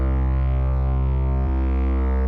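A thick, sustained bass and mid-bass layer from a melodic bass dubstep production drones loud and steady, with one brief change partway through, no voice present.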